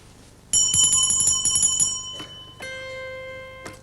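A bell struck to tune a century-old electromechanical zither-playing automaton rings close and clear, first in a quick run of bright metallic strikes, then one sustained lower tone that lingers with a final tap.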